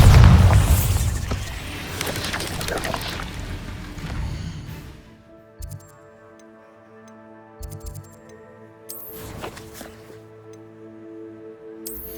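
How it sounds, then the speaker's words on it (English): A Bombarda blasting spell in Hogwarts Legacy, set in Arranshire: a loud booming explosion with a crackling, rumbling tail that fades into quiet game ambience broken by a few soft ticks and clicks. "Bombarda!"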